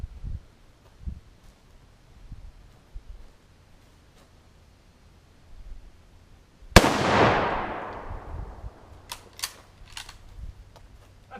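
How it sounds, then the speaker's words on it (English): A single loud rifle shot from a Mosin Nagant firing a full metal jacket round into an air conditioner in a backyard, a sharp crack decaying over a second or two after quiet handling noises, followed by a few faint clicks. "The Mosin Nagant Full Metal Jacket round punched right through that thing."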